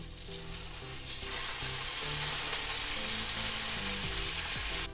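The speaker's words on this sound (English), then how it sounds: "Just going to saute them a little bit." Vegetables sautéing in a hot pan, a constant bright sizzle with faint stirring shuffles, close and even throughout, with nobody speaking.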